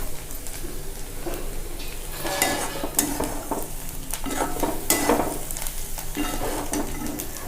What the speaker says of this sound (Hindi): धीमे आंच पे फ्राई करना है बिल्कुल।